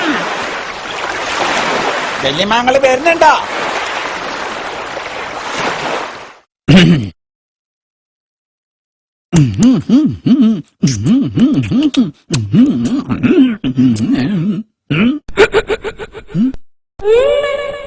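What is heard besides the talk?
sea waves breaking on the shore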